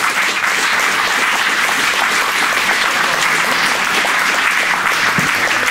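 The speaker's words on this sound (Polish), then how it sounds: "Jeszcze raz brawa, gratulujemy." Audience applause at a live radio concert in Rzeszów, steady dense clapping filling the whole stretch without pause, loud and close, with no voices standing out above it.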